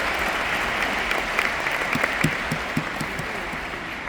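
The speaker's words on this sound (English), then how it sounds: "So please, a big applause to that company again" Sustained audience applause at a Riway Europe business seminar in Budapest, a dense steady clatter of many hands clapping indoors for the full stretch, with a few sharper claps standing out near the middle.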